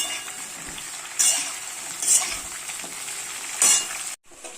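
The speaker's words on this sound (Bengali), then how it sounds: "বেগুন আর আলু আমার দেখুন ভাজা হয়ে গেছে" Eggplant and potato pieces frying in a little oil in a pan, a steady close sizzle with three brief louder scraping bursts as the pieces are stirred, cutting off abruptly near the end.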